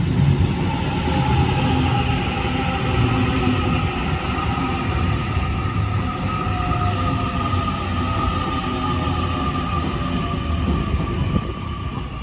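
A Sydney T13 train runs through Strathfield station with a loud, sustained roar of wheels and motors, a continuous rumble close by with faint metallic squeal tones layered over it.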